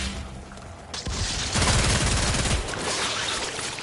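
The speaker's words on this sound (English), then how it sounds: "Hive located. Destroy it with weapon fire." Heavy weapon fire and explosive impacts hitting an Infested hive in Warframe, a dense, loud barrage with booming low-end hits that swells in the middle and then tapers into a rumbling wash of game noise.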